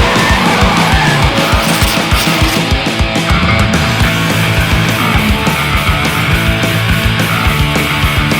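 Car drifting at Driven Luck Circuit: a loud, continuous engine roar with rapid throttle pulses and sustained tire squeal across the whole stretch, close and intense, no voices.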